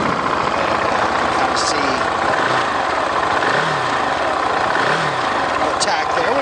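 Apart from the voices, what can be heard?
KTM 690 Duke motorcycle engine idling after starting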